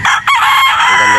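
A broodstag rooster crows loudly and close, one sustained cock-a-doodle-doo with a short break near the start, while someone talks faintly underneath.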